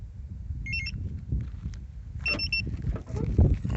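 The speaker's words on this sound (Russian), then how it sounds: "Вот, например, ставим на охрану." A StarLine A63 ECO car alarm gives two short electronic arming chirps, each a quick pair of beeps, about a second and a half apart over low outdoor background noise.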